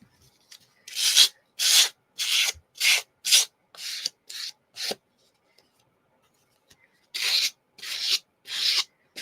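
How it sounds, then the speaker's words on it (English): A sanding block rasps along the edge of a card in repeated short strokes, close and crisp, with brief pauses between bursts and a longer gap midway. "Run the sanding block over around the edge."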